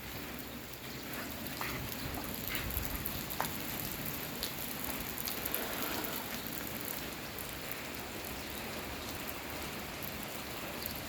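Storm rain in a Lao village, a steady dense hiss of rain falling on surfaces, even and unbroken from start to finish.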